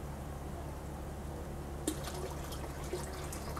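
Water is poured slowly into a 100-gallon fish tank outdoors, a steady low trickling wash with a couple of soft splashes near the end, no speech.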